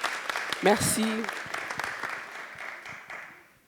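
Applause from the audience at a women entrepreneurs' speed-dating event, a moderately loud patter that runs under someone speaking briefly and fades toward the end.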